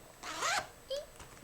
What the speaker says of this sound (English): I got to open a zipper.